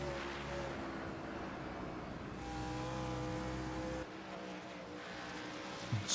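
Race cars circling Daytona in a racing video game, with a steady droning engine roar from a pack of cars that drops and shifts partway through, no voices over it.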